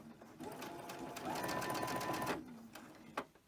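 A sewing machine runs a steady stitching burst for about two seconds, joining fabric pieces at a quilting studio, fairly quiet and close, followed by a couple of clicks.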